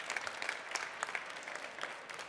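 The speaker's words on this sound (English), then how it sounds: "A big round of applause for our great moderator." A conference audience applauds a moderator at a science slam event, a steady patter of many hands clapping at moderate volume with no voices over it.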